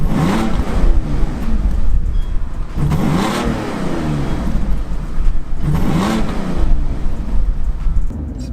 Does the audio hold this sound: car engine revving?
yes